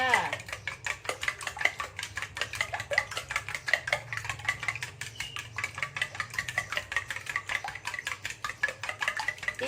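Eggs beaten briskly in a bowl for fried cha-om, a fast steady clatter of utensil strikes against the bowl repeating throughout at close range.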